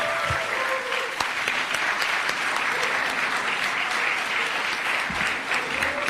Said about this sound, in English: A really warm round of applause for His Excellency one more time.